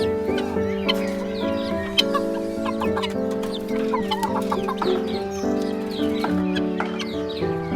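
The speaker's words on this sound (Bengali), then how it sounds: "এগুলো হচ্ছে বড় টাইগার মুরগি" Several tiger chickens cluck and murmur close by in an ongoing, overlapping chorus, with a few sharper calls standing out.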